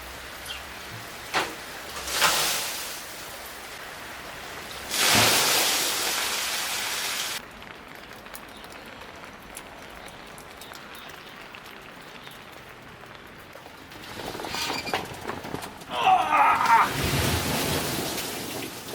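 Rainwater pours and splashes off a leaking tarp in bursts, loudest around the middle and again near the end, with quieter dripping between; a voice is faintly audible at the start.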